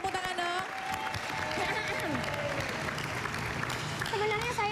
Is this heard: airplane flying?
no